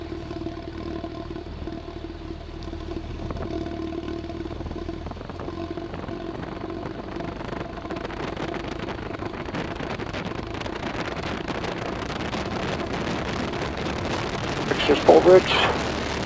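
A Cessna 172 engine drones steadily at full throttle on the takeoff roll, a constant loud hum with wind rush, while a pilot calls out over the noise.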